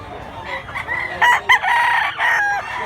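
A young rooster (stag) crows at an outdoor gamefowl market in Mantalongon, Cebu, its harsh cock-a-doodle-doo rising in several strained bursts, fairly close and loud over a low murmur of background noise.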